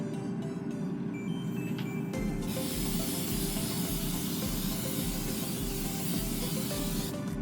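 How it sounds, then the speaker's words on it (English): Extra virgin olive oil sprayed onto onion rings before they go into a preheated air fryer, one long steady close hiss from the spray can lasting about five seconds after some quiet kitchen handling noise. "just spray some extra virgin olive oil."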